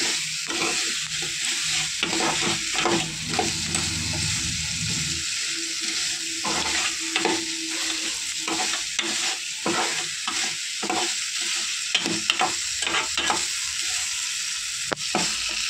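Crab curry masala sizzles in a pan while a spoon scrapes and stirs in repeated clinking strokes, close and continuous with no voices.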